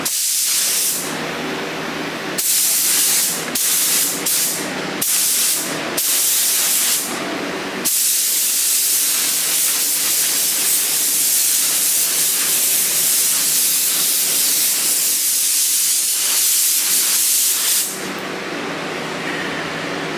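Spray gun applying sealer, a loud close hiss in short bursts at first, then one long continuous spray lasting about ten seconds before cutting off to quieter background.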